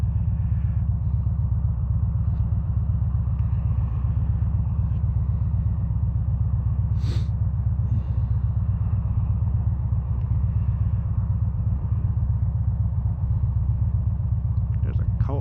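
Air-cooled engine of a 2013 Victory Cross Country Tour motorcycle under way, a steady loud low throbbing rumble with wind noise that runs unbroken throughout, no talk over it.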